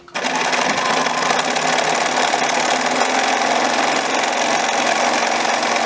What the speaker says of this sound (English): I'm just going to sew down the side seams.